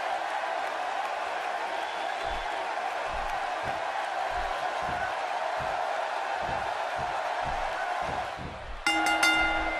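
Arena crowd in the video game WWE 2K16 at a Cleveland event: a continuous roar with rhythmic stomping or clapping thumps, ending in a brief bright ringing tone.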